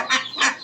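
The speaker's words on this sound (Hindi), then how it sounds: "ये बतख का बच्चा डोल रहा है अपनी माँ के पीछे पीछे।" A duckling out walking behind its mother on a small farm gives two short, nasal calls close by, with a thinner cry trailing after.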